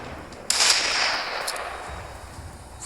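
Sniper rifle shot in a video game, one sharp report followed by a broad decaying rumble, with a faint second click shortly after, loud and close.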